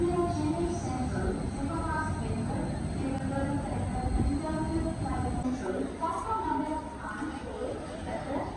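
Train noise on a platform at Thiruvananthapuram railway station: a steady, loud rumble with faint squeals and distant chatter, constant throughout with no single passing event.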